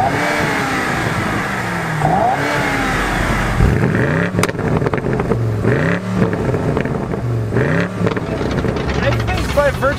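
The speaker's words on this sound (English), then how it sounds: "the M2 actually lets you rev it all the way to redline, that one has to be the winner for this rev battle" A BMW M2 engine revs repeatedly toward redline in close, loud rising and falling sweeps, with speech partly over it.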